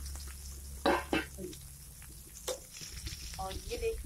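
Potatoes cooking in a pan for a stuffed potato dish give a low steady sizzle with a few sharp stirring clacks and scrapes, heard close and moderately loud with no talking.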